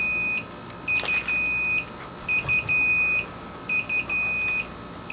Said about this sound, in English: let's go ahead and take it out so it stops beeping